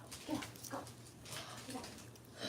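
A pet dog near a camera indoors gives soft whimpers and short yips, moderately close, while a person talks over it.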